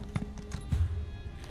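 Horse hooves clip-clop in a fantasy role-playing video game, a few uneven close steps across a short span, with the heaviest footfalls in the middle and no talking over them.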